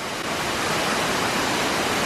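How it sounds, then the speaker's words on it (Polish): The Giessbach waterfall near Brienz, Switzerland, gives a steady, dense roar of falling water that is close and loud and fills the whole moment without a break. "Nie jest to tak duży wodospad jak u nas w Islandii, ale też ma swój urok, prawda?"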